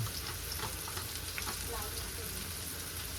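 Red masala spices fry in a pan for a dry prawn dish (kolambi sukka), giving a constant, fairly quiet sizzle with soft stirring scrapes mixed in.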